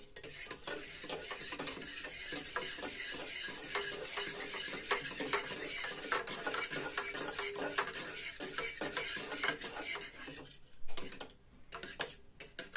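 A fork clinks and scrapes steadily against a cup or glass while stirring a whey protein shake, a continuous fast stirring rattle that goes on for several seconds before slowing near the end.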